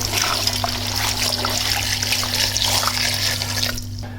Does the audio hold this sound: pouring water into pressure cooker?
yes